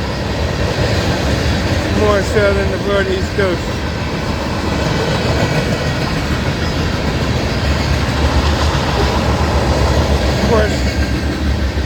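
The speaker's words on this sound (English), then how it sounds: "The manifest train." A CSX manifest freight train rumbles past at Folkston in a steady, loud roll of wheels over rails, with a horn-like tone early on and someone talking throughout.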